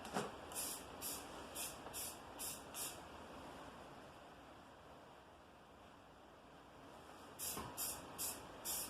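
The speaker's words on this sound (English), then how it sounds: "Yeah, I'm using rattle can." Short bursts of spray paint from a rattle can go onto a drill sharpener being repainted, six quick puffs in a row, then a quiet pause, then four more bursts, close and fairly soft.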